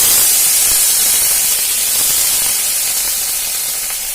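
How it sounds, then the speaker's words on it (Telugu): A loud, steady hiss of eggplant pieces sizzling in a hot pan fills the whole stretch, with no voices. "మళ్ళీ బాండి పెట్టేసుకొని ఈ వంకాయ ముక్కలు ఏదైతే ఉన్నాయో అవి అయితే వేసేసుకుందాము"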